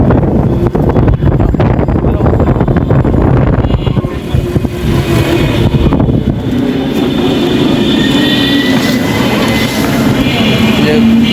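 Strong wind roaring over the microphone on a city road in cyclone weather, a loud continuous rush with traffic rumble underneath and people talking through it.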